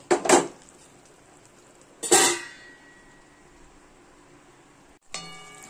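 A metal lid settles onto a cooking pot of simmering stalks, pumpkin and potato, giving three separate sharp clanks with quiet gaps between them; the last leaves a brief ringing tone.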